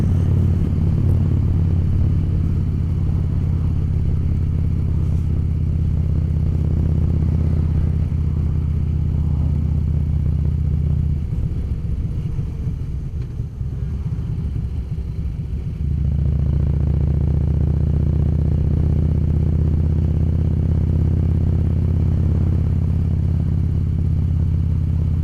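A Harley-Davidson motorcycle cruising on the interstate, its engine a steady, loud low rumble with wind roar, changing in tone briefly midway before settling back into the same constant drone.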